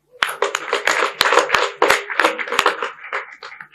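Applause at a national visual arts competition prize ceremony: a few hands clapping irregularly, crisp close claps with sharp individual strikes rather than a dense crowd.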